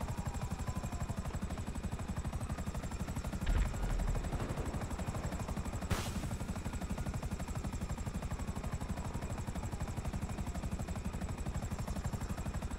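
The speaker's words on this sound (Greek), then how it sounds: "ερχόμαστε με ελικόπτερο." Helicopter rotor in a King of the Hill PvP video game, a steady loud pulsing whir that holds for the whole stretch, broken by a short thump and a sharp crack partway through.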